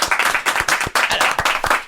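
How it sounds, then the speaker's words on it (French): Audience applause at a live show, a dense run of fast hand claps with steady rhythm, fairly close and loud throughout the short burst, no voices standing out. "il y en a qui s'arrêtaient pas d'applaudir là"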